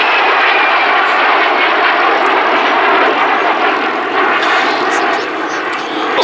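A MiG-15 jet flies at the Duxford Battle of Britain Air Show, its engine a loud, continuous roar that holds steady and eases slightly toward the end.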